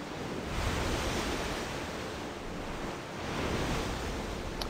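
Ocean waves wash steadily around a sailing ship in the video game Black Desert on PS5. The surf is a continuous, loud broadband rush that swells and eases gently, with no voices.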